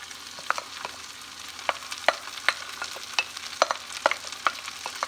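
Diced onions fry in a pan of oil for butter chicken, a soft steady sizzle punctuated by frequent light scraping and stirring clicks, close and fairly quiet with no talking.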